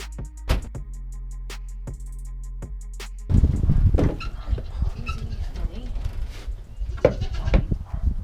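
Pregnant Nigerian dwarf goats on a farm bleat loudly and repeatedly at close range after a stretch of quieter ticking sounds, mixed with a person talking nearby.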